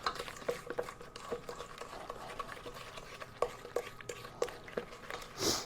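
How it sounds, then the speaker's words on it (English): A spoon stirs mustard into red sauce for a homemade meatloaf in a bowl, giving soft irregular scrapes and clinks close by, with a louder knock near the end. "now we've got to stir this up"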